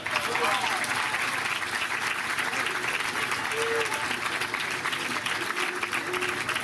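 Sustained audience applause at a political victory speech for the presidency of the Republicans party in 2017, a dense, even clapping from a large crowd filling the hall, with a voice audible over it.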